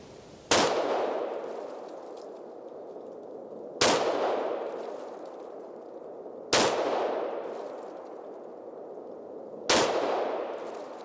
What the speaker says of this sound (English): So let's shoot it a few times, see how it's going to be as far as on target